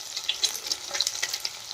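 Masala sizzling and crackling in a hot pan for egg bhurji, a steady close hiss with frequent small pops and spits throughout, no voices.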